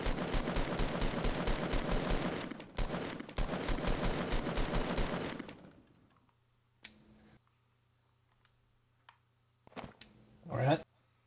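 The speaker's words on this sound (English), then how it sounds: "He's shooting at me." Rapid automatic gunfire rattles continuously for several seconds in a battle royale video game, then fades, followed by a few scattered distant shots and short bursts near the end.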